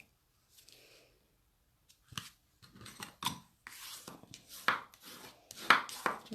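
An A4 sheet of Mossy Meadow cardstock folded in half by hand, with soft rubs and crisp creasing scrapes that build into a run of sharper swipes toward the end.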